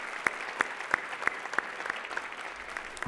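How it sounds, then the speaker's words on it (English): Sparse, distinct claps ring out at a regular pace at a 2019 Legacy of Hope Youth of the Year celebration, honoring the youth of the year, fairly faint and thinning toward the end. "Can we give Kayla one more round of applause?"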